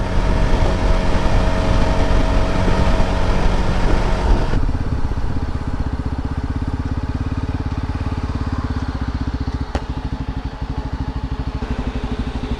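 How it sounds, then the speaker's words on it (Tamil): A Yezdi Adventure motorcycle engine thrums steadily while riding on a highway trip, a loud continuous mechanical drone with a rhythmic pulse that eases slightly partway through, with no talking. "வண்டி சவுண்டு பயங்கரமாக இருக்கு கைஸ்."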